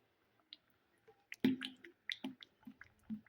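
A thick masala rava papad batter with semolina and coriander is stirred in a bowl, making soft, wet squishing and dripping sounds in short irregular strokes, close and fairly quiet.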